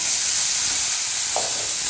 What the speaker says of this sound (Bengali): এইবার আলুগুলোকে ভেজে নেবো ভালো করে